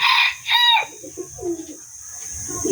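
Chickens cluck nearby, a few loud squawking calls followed by softer clucks in a quiet setting.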